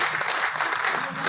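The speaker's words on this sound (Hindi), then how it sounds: "इनके लिए थोड़ा ताली मारिए" Audience at an LIC insurance advisers' motivational speech clapping on the speaker's cue, an even wash of applause that stays steady and moderately loud without pause.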